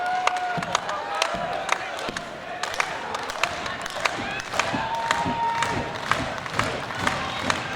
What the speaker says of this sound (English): Now the crowd start to lift.